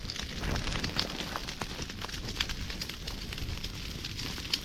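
Fire burns in a farm field in Konkan, a moderately loud, even rushing roar scattered with sharp crackles and pops.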